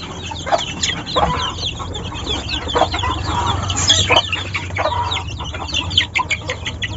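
Several roosters and hens, including Talisayan chickens, cluck and chatter close by, with repeated short calls and scattered squawks over a busy farmyard background.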